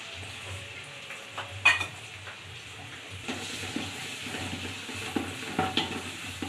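Chopped onions fry in oil in a cooking pot for chicken pulao: a faint, steady sizzle with occasional soft clinks and scrapes of a utensil stirring.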